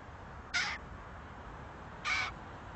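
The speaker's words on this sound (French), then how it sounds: "Ce sont des croassements qui expriment une certaine excitation, mais ce ne sont pas des cris d'alarme." Crows caw excitedly near their nest, two short, harsh calls a second and a half apart, moderately close over a steady outdoor hiss.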